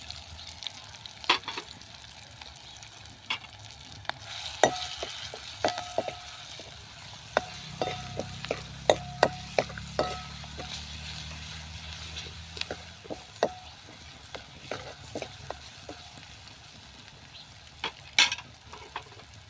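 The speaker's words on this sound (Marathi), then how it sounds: "टोमॅटो परतून घ्यायचा आहे थोडा आता यामध्ये आपण जे वाटण केलं होतं ते टाकायचं आहे" Tomato and ground spice paste sauté in a pan, giving a continuous frying sizzle with frequent sharp clinks and scrapes of stirring, busier in the middle stretch, and no talking.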